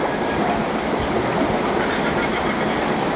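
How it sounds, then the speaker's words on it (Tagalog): A steady, loud roar of typhoon wind rushes without pause, a dense broadband howl with no voices or distinct events. "Lakas pa rin ng hangin."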